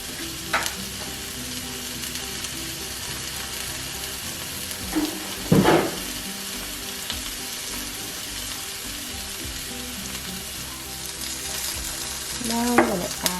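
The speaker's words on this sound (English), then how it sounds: "Add our zucchini in the saucepan. And then our broccoli." Zucchini and broccoli fry in a saucepan with a steady sizzle throughout, broken by a few brief scraping stirs and clatters near the start and end.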